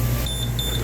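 A Hoshizaki ice machine sounds its three-beep safety alarm, three short high beeps evenly spaced over a loud steady mechanical hum and fan noise, close by with no talking.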